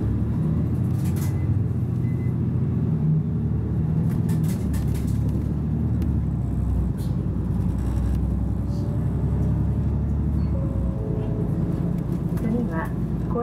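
Soya Bus on a route from Wakkanai Station bound for Otoineppu, pulling away: a loud, steady diesel engine rumble with hissing brake release and cabin rattles, heard from inside the bus with a voice speaking over it.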